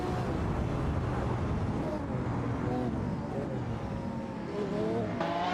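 Racing-game cars, a Jaguar F-Type Project 7 and a McLaren 540C, battling closely: sustained engine drone with rising and falling revs and brief tire noise.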